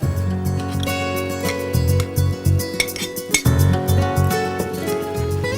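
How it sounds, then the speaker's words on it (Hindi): Paneer pieces being added to a pan of softened capsicum, with clinking and scraping of metal utensils against the pan over a steady background hum, loud and close, and no talk. "अब हम इसमें डाल देते हैं ये पनीर।"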